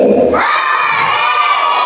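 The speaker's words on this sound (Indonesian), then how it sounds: "Kalau kau suka hati teriak hore." A crowd of children shouts hooray together during a hand-puppet storytelling session, a loud sustained burst of young voices lasting nearly two seconds.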